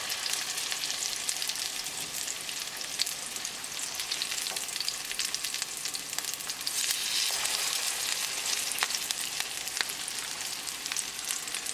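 Lamb chapli kebab patties frying in a pan over a medium gas flame give a steady, dense sizzle with scattered crackles and pops. It continues unbroken throughout, with no voices.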